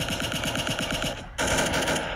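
Rapid pistol gunfire in the Roblox game Arsenal, a fast rhythmic burst of shots running steadily for about a second, a brief gap, then loud firing resumes, with no talk over it.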